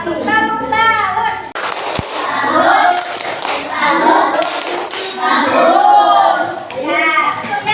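Pupils in a classroom perform a rhythmic salute clap, crisp bursts of hand claps mixed in with lively chanting and speaking voices of children and a teacher.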